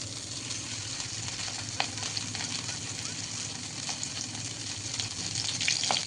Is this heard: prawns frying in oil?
yes